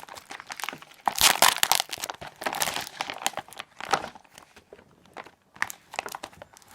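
Package being opened by hand, with irregular crinkling and crunching of plastic or paper wrapping in clustered bursts and short pauses, close and moderately loud with no talk.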